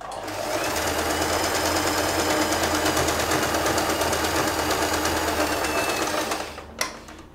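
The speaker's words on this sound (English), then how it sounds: "And sew a back and forth stitch right on the" A sewing machine sews a back-and-forth stitch across fabric on the side of a hair bow, a loud, continuous, rapid whir running steadily before cutting off with a brief click at the end.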